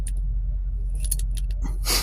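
Kia key fob from a 2024 Kia Sportage handled inside the car, with light plastic clicks and jingles scattered through the clip and a brief brighter rattle near the end, all over a steady low cabin rumble.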